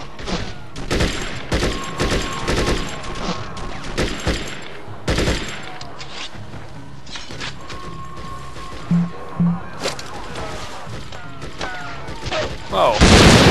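Dense gunfire and explosions in the military video game Conflict: Desert Storm, a steady fusillade of rapid shots and booms with heavy blasts running throughout, loud and close, and a voice talking over it.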